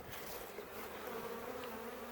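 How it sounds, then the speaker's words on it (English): Honey bees buzz at an observation hive in a steady, busy drone, many insects humming together close by with a constant, slightly wavering tone. "all the bees going in the window"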